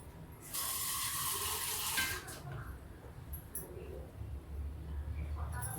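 Water is poured from a pot for hand washing, making a short splashing gush of about two seconds followed by quieter dribbles and faint handling sounds, close by.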